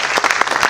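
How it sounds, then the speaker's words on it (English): A brief burst of audience applause for presentations at a workshop session, under a second of clapping at steady loudness. "So a big round of applause to yourself for that."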